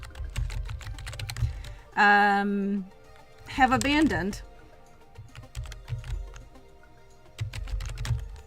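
Computer keyboard typing in rapid clicky bursts, close and crisp, with short pauses between runs, while a person talks over parts of it.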